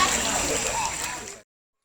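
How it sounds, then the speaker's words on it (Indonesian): Floodwater flows through the streets of a village in Sungai Raya, South Kalimantan, a steady rushing wash over a news voiceover that cuts off abruptly after about a second and a half. "Banjir ini naik dari tadi malam, sudah mulai menggenangi jalan di desa Sungai Raya ini"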